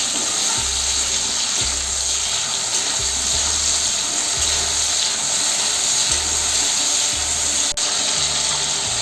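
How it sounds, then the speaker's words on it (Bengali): Chopped tomato with a little sugar frying in oil in a pan: a continuous close sizzle and hiss, broken by regular soft scraping strokes of stirring. "ভালো করে ভেজে নিই টমেটোটা।"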